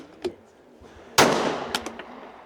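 A single sharp gunshot from a scoped Ruger rifle at an outdoor shooting range, loud and close, followed by a decaying echo and a few faint clicks and knocks.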